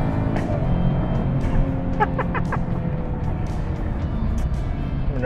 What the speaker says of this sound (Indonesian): Bener-bener enak suara mesinnya.